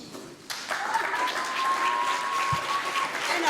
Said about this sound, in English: a round of applause for our fantastic flying captain